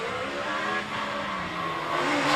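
Race car driving up the Prescott hill climb course, its engine roaring loud and continuous at high revs as it accelerates through a bend, near and unbroken with no voices.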